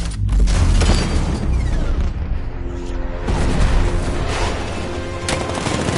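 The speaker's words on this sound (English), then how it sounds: "60mm cannon operational" Heavy booming 60mm tank cannon blasts and rapid gunfire from Batman: Arkham Knight crash together in a loud, dense battle din, with repeated deep impacts and rattling bursts.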